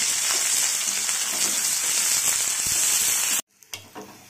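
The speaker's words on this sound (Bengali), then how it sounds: "এখানে আমি পেঁয়াজ আর কাঁচা লঙ্কা কেটে রেখেছি এটা দিয়ে দিই" Chopped onion and green chili sizzle loudly in hot oil in a home kitchen, a steady dense frying hiss for over three seconds before it cuts off abruptly, followed by a few faint clinks.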